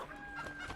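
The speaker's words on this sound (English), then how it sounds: "we get a chicken! Our first familiar." A chicken familiar in the video game Enter the Gungeon gives a quick, faint cluck over quiet game sounds.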